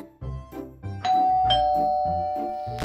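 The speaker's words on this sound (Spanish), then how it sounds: "¡Oh! ¡Un timbre!" A cartoon doorbell rings with a bright ding-dong chime, clear tones ringing out and sustaining over a soft musical background, no talking.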